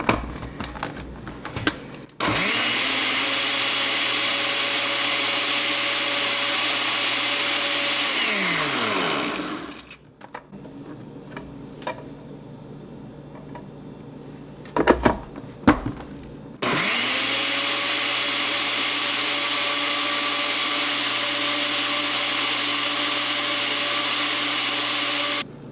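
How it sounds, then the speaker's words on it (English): Blender whirring loudly as it purees a handful of spinach with juice, running steadily for about eight seconds, stopping, then starting again for a second long steady run after a few clatters. "and then I blend it."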